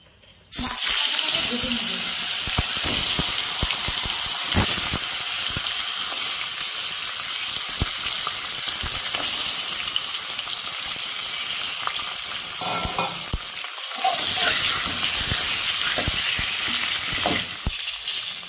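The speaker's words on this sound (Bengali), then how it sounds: "আমি কড়াইতে তেল দিয়ে দিলাম, তেল দিয়ে মাছের মাথাটাকে ভেজে নিব।" A catla fish head fries in oil in a wok with a loud, continuous sizzle lasting throughout, broken by occasional scraping and clatter.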